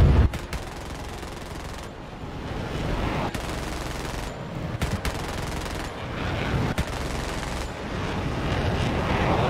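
Aircraft cannon fire in the War Thunder video game: sustained, dense rapid-fire bursts with heavy low rumble, broken by brief pauses, loud and continuous throughout.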